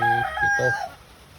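A mother hen with her chicks lets out one drawn-out, tonal call close by, fading after about a second into near quiet.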